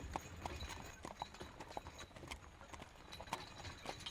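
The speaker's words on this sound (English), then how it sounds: "bumping around in this horse carriage all day" A horse-drawn carriage moves along with a steady, rhythmic clip-clop of hooves. The sound is faint and distant, and no one speaks over it.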